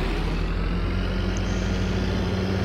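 A farm tractor engine starts moving off, a loud steady low-pitched diesel drone with continuous rumble and no talking over it.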